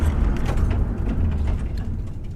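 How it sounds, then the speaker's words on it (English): Heavy braking in a 1999 Nissan Skyline R34 GTR V-Spec N1, a dense, close low rumble with grinding, creaking mechanical texture that fades slightly as the car slows. "Try the brakes on a heavy brake."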